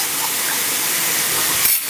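Water goes into a pan of green chili paste, salt, turmeric and chili powder, making a steady soft hissing spray that sputters briefly just before it ends.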